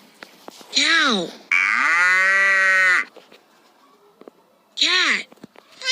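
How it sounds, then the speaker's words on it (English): A cow moos in a long, loud, steady low call, bracketed by shorter rising-and-falling vocal calls before and after, with faint clicks in the gaps. "Cow."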